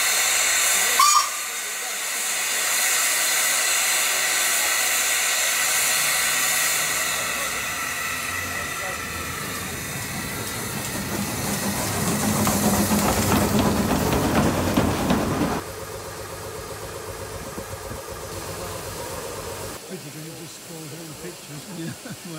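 Steam locomotive Tjepper No5 working at Statfold Barn, with loud continuous hissing steam, a brief whistle near the start and a rising chuffing rumble as it moves off, then a steadier hiss settling toward the end.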